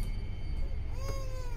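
A cat in The Baby In Yellow game gives one short, fairly clear meow near the end of a brief stretch of low background hum.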